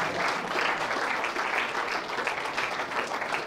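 Crowd at a blackball pool world championship applauding a player, with dense sustained clapping that holds steady throughout.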